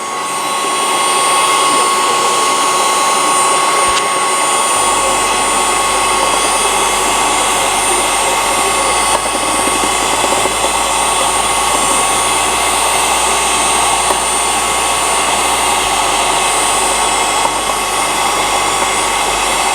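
Electric multifunctional hand mixer whipping cream in a bowl, a loud, steady close-up motor whir with a continuous broadband beater hiss sustained throughout, with no talk.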